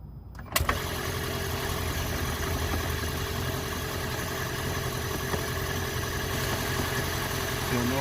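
A 2005 Toyota Prius engine fires up abruptly after a brief quiet moment and settles into a loud, steady running hum close by.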